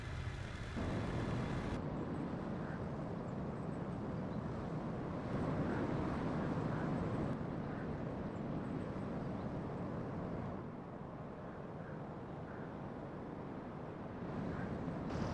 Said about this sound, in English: The only thing that greets you are the sound of the wind and the rumble of your own engine.